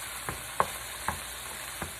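Garlic, onion and chopped tomato frying in a pan, with a soft steady sizzle and a few distinct scrapes of stirring spaced through it, close by and fairly quiet.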